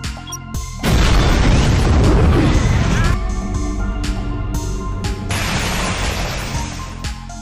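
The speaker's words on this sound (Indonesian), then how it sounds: "ternyata mobil pemadam kebakaran yang dibawa Japar tadi meledak" A fire truck explodes in a heavy blast with a loud boom, followed by a long rumbling roar and debris noise, then a second surge of blast rumble.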